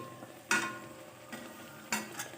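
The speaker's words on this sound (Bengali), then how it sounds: "এইভাবে বাকিটাও আমি ভেজে তুলে নেব।" Pea-stuffed kachuri fries in hot oil in a pan, a soft steady sizzle broken by three sharp bursts of splashing and ladle strokes as oil is spooned over, no talking.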